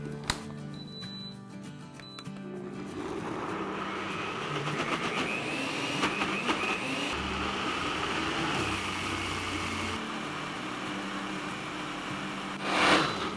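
An electric grinder whirs steadily for over ten seconds, blending ginger and garlic into paste, with a continuous high motor whine and a brief louder clatter near the end.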